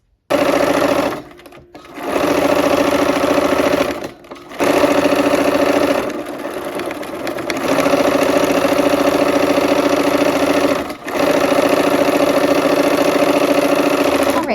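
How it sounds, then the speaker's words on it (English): Sewing machine stitching quilt block seams, running in loud steady whirring bursts with a rapid mechanical chatter, broken by short pauses and a quieter slow stretch. "All right, let's go ahead and sew those seams."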